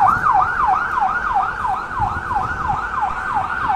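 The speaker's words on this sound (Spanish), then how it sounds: "pese al ruido de la ambulancia, del camión de bomberos que viene atrás" Wailing sirens from a fire truck and an ambulance moving through flooded Houston streets, a steady rising-and-falling wail repeating about every half second, loud and close over a rumble of traffic, with no talking.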